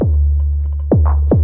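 A Roland TR-8S drum machine runs through an ARP 2600 preamp with spring reverb, giving deep booming kick hits with pitch-dropping tails, a long sustained low drone, and a few faint ticks between.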